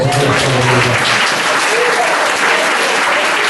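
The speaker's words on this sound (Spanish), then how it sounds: "Denle un fuerte aplauso a Dios." A church congregation gives loud, sustained applause during a sermon, a thick continuous roar of clapping with some voices mixed in at the start.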